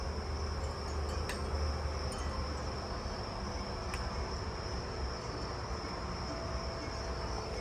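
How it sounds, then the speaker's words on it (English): A jumping bush cricket calls at night in a constant high, thin trill over a dense outdoor insect chorus, steady and fairly distant with no voices. "I just heard another jumping bush cricket."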